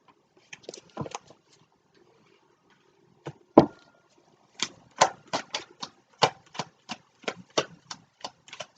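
A deck of cards is shuffled by hand, making crisp snapping clicks. A few scattered flicks come first, then a quicker rhythmic run of sharp taps, close and clear over near silence.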